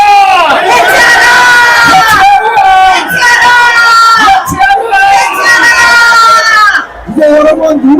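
A rally crowd at a street protest shouts and cheers together in loud, sustained collective cries with whoops, surging in waves and dipping briefly near the end.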